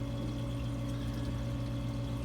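A Waveline pump sends water through a trickle filter back into a 170-gallon aquarium, giving a steady, constant pouring and humming flow at close range with no break.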